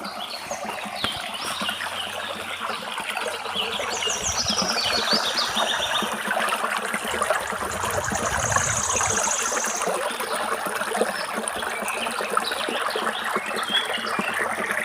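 Water falls from a height outdoors, giving a continuous broadband rush with steady loudness throughout. Birds chirp faintly above it.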